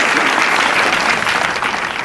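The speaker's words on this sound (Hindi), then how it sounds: "जोरदार तालियां हो जाए" Studio audience at a Hindi quiz-show game breaks into steady, dense applause that fills the whole moment at a constant level, close and loud with no talk over it.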